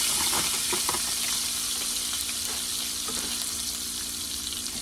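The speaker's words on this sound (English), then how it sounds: "So now I'm gonna go ahead and add my spinach." Fresh spinach sizzles steadily in a hot frying pan, added after cooking bacon, with a dense continuous crackle and occasional stirring scrapes, close and loud with no talking.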